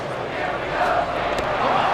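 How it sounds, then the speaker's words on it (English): Stadium crowd cheering in the MLB 2K8 baseball video game during a Phillies home game, a steady broad roar of excited fans sustained at moderate loudness throughout. "Well, the crowd's excited now"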